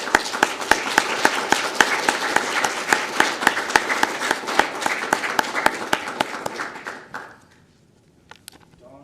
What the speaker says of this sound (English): If you can give them a nice round of applause